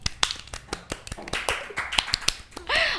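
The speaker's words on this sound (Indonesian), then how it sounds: "Tepuk tangan dong." A small crowd at an Indonesian school olympiad talk show claps for special guests from a Kebumen olympiad team, quick scattered sharp claps building into a denser burst of applause at the end, with no talking over it.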